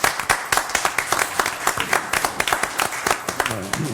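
Applause at a city redevelopment agency board meeting: a small group claps in loose, sharp individual claps at moderate distance, with a voice rising briefly near the end.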